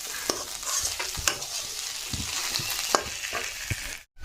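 Leafy greens with lentil-pumpkin dumplings frying in oil, with a continuous sizzle and repeated stirring scrapes and taps against the pan, cutting out abruptly near the end, with no talk.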